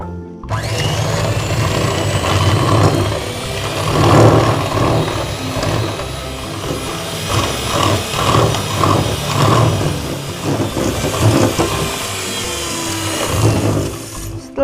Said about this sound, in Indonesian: Kita akan kocok terlebih dahulu butter dengan gula caster. Kita kocok hingga dia mengembang.